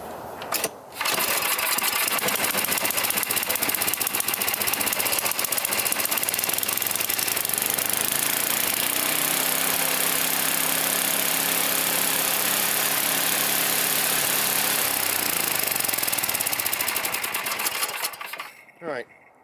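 A 9 hp Tecumseh-powered snowblower engine starts and runs loud and close with a steady, rapid chugging roar. It holds near one pitch, surges briefly, then cuts out near the end.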